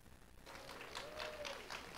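A congregation applauds at a church service, soft, distant clapping that swells after about half a second and holds steady, with a faint tonal whistle or hum briefly rising and falling over it.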